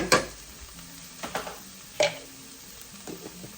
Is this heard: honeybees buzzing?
no